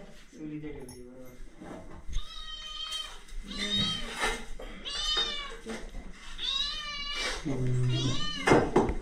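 A pet cat in the kitchen of a mud house in Konkan gives several drawn-out meows, some rising and wavering, close by and mixed with people talking.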